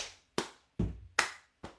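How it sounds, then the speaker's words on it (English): Sharp hand claps from a song-leading step routine, five crisp, dry strikes spaced roughly evenly, close and clear with no talking between them. "the middle one is a clap going like this"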